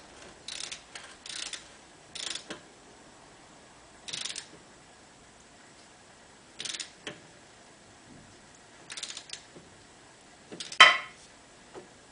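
A torque wrench ratchets on a transmission bolt of a BMW R90/6 motorcycle, with several short, quiet bursts of clicking separated by pauses and one sharper final click run.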